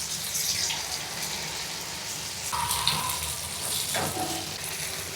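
Vanjaram fish coated in masala fries on a hot dosa tawa, giving a steady, close, crackling sizzle with a few brighter spits of oil rising above it.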